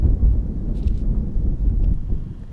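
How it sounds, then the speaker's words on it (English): Strong wind buffets the microphone at an outdoor disc golf tournament in New Zealand, a loud, steady low rumble throughout with no clear voices. "Just a ripping wind."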